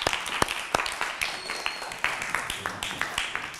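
An audience greets the guest Farid Aliyev with scattered, uneven claps. The sharp individual hand claps come and go for a few seconds while a host keeps talking.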